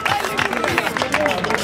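Crowd applause breaks out for three girls at a motor expo in Ariano Irpino, a short burst of clapping mixed with cheering and crowd chatter, with voices over it.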